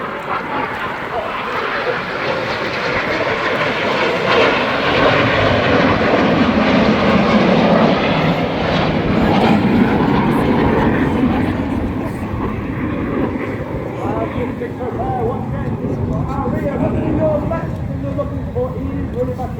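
Red Arrows jets flying a double roll at the Eastbourne airshow, a loud continuous roar of jet engines swelling and fading over the full stretch, with a commentator talking over the noise.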